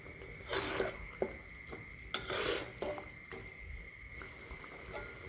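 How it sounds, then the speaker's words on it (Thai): Pork being stir-fried with curry chili paste in a pan, giving soft scraping stirs and light sizzling in a few bursts, close and fairly quiet, with no one talking. "เอาหมู ลงไปรวนกับน้ำพริกนะคะ ผัดรวนให้สุกนะคะ"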